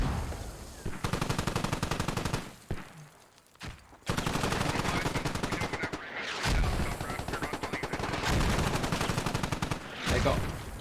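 Gunfire in the Squad video game as players shoot at a radio, long bursts of rapid automatic fire in close, loud stretches separated by brief quiet gaps, with a few strange honking sounds mixed in.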